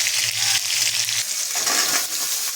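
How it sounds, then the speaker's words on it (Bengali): Mixed vegetables tipped into hot oil in a pan give a loud, steady sizzle, with a brief stirring scrape midway; no voices. "সমস্ত সবজি আমরা এখন একসঙ্গে দিয়ে দিলাম।"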